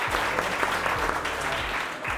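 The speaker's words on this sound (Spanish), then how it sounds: "Aplausos para ustedes." Steady applause from a crowd at a Global Game Jam 2019 event, dense clapping that holds at an even level for a couple of seconds.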